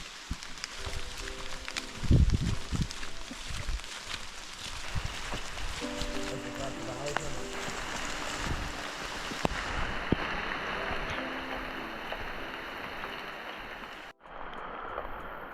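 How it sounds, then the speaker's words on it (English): Heavy rain pouring down in an open forest area on a backpacking trip, a steady hiss of drops close by, with someone talking over it for much of the time. "The drizzle has turned into a downpour now as we enter this nice open area of the forest."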